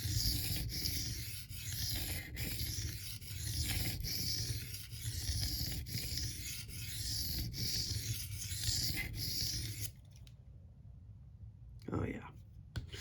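Knife blade stroked across a 400 grit diamond sharpening plate, giving a steady, continuous rasping scrape close to the microphone with rhythmic strokes, then a sudden stop near the end.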